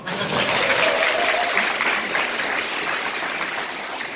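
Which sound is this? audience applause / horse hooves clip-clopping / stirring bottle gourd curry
audience applause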